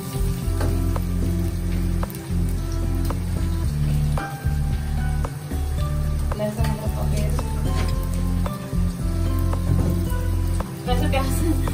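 Onions and tomatoes fry in a pan, a loud steady sizzle running throughout with occasional clinks and stirring scrapes, with no talking over it.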